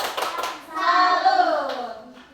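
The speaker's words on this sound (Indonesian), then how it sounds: "tepuk tangan untuk tepuk salut" A group of first-grade children in a classroom clap a few quick beats, then chant together in one drawn-out unison call.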